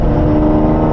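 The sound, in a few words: Jaguar F-Type sports car passing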